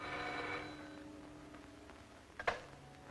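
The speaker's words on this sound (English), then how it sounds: "Your phone is ringing." An old-fashioned telephone rings in an office scene of a vintage film serial, a faint, brief bell-like tone near the start, followed by a soft click or handling knock.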